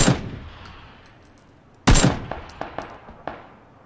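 Gunfire in the battle game PUBG: a sharp loud shot followed by a short ragged string of quieter, more distant shots with metallic ringing tails, heard alone without talk.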